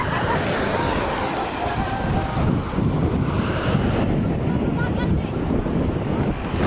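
Surf washing onto a white sand beach in Moalboal, Philippines, a steady broadband wash heard close and loud, mixed with heavy wind buffeting the microphone throughout.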